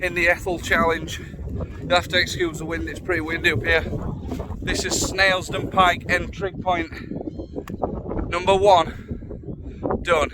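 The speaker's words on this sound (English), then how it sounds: "You'll have to excuse the wind, it's pretty windy up here." Gusty wind buffets the microphone with low rumbling bursts while someone speaks over it.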